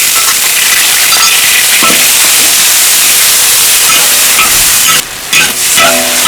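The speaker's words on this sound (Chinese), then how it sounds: "来加一点油炒剁椒" Chopped chilies with a few ginger slices stir-frying in hot oil, a loud, steady close-up sizzle and hiss that runs throughout, with brief clatter of stirring and a short break near the end.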